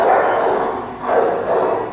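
Barking in an animal shelter kennel, two hoarse, reverberant barks about a second apart, loud and close, set against a busy room.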